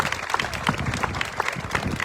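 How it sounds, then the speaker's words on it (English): Applause from an audience for the festival queens at the Jackson Apple Festival ceremony, a moderate, busy patter of clapping with scattered crowd voices mixed in. "I'd like to give our queens a big round of applause for helping us with the ceremony"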